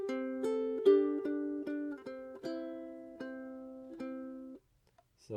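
Ukulele fingerstyle melody, a steady run of soft plucked notes and ringing dyads played alone and close before fading to quiet.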